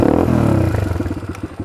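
A Yamaha Raptor 700 ATV engine idles close by with a fast, chuffing pulse and gets a light blip of throttle. The exhaust beat comes through loud and uneven, with a little mechanical clatter and no voices.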